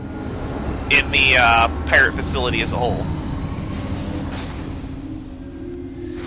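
A tram in the video game Metroid Prime 3: Corruption rolls along with squealing, metallic rail-like screeches early on, then settles into a steady rumble while someone talks over it.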